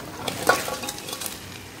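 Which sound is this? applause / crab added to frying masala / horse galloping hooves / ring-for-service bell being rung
crab added to frying masala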